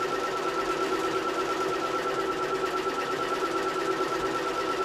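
A sewing machine stitches a fabric circle for pot caps, its motor running in a steady, even whirr throughout with no pauses.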